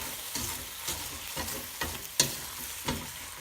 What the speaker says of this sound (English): we're just stirring it through to get that garlic and chili right throughout the pasta